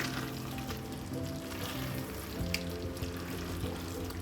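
Okra masala with coriander leaves mixed in a pan on the stove, a continuous low sizzle with faint spoon scrapes, close and steady, no voices.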